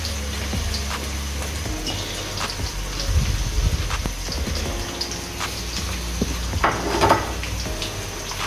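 Onions sizzle steadily in hot cooking oil in a kadai for chicken pulao, a continuous crackling hiss with scattered pops that swells a little in the middle and near the end.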